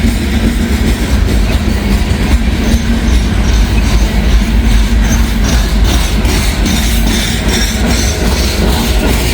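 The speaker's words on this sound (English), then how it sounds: "Sounds like we got another train coming" A long train rolls past on the rails, loud and close, its wheels clattering in a steady clickety-clack over a heavy continuous rumble, with no voices.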